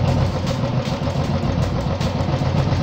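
A Royal Enfield EFI motorcycle engine idles close by, a steady, even throb with a slight rhythmic pulse and no talking.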